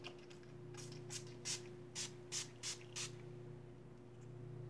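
Several quick hisses of a makeup setting spray pump, about six short bursts in a row, close and fairly soft over a steady low electrical hum.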